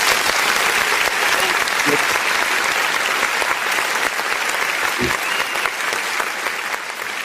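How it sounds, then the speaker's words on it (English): Dense, steady clapping from a crowd at a street protest in Abuja, Nigeria, loud and continuous throughout with a couple of brief low bumps. "I need to clap for you for that."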